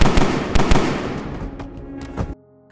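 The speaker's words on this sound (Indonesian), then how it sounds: "sebuah tembakan tiba-tiba terdengar" A sudden gunshot in a mafia action film scene: a burst of sharp, loud cracks with booming low-end reverberation that gradually decays, then cuts off abruptly near the end.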